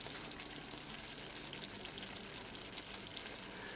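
Chicken drumstick and potato curry simmering in a pan over low gas, a faint, steady bubbling sizzle with fine crackles that runs on evenly and quietly with no talking.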